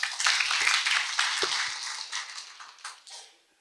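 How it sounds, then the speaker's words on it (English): Audience clapping for a visiting director at a society meeting, a dense burst of hand claps that gradually thins out and fades away over a few seconds. "Another clap for the director."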